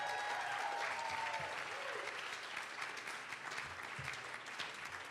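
A crowd at an evening awards gala applauds steadily for the Seattle Seahawks, sustained even clapping that fills the room, with a faint tonal sound near the start.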